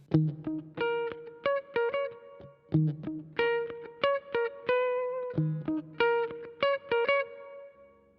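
Electric guitar played through a Kemper Profiler with a clean tone and added reverb for an atmospheric sound: plucked chords and single notes in a rhythmic pattern, each ringing out with a soft tail, played alone.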